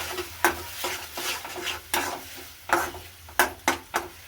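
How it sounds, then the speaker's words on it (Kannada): Stirring a tomato, ginger, garlic and chilli powder paste in a pan: a spoon scrapes and knocks the pan in irregular strokes over a faint sizzle, with no talk. "ಪೇಸ್ಟ್ ಮಾಡಿಕೊಂಡು ಮಿಕ್ಸ್ ಮಾಡ್ಕೊತಾ ಇದ್ದೀನಿ"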